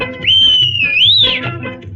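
A long steady train whistle in a Hindi film song about a railway, one sustained shrill tone that bends upward near its end, loud and close over the running musical accompaniment.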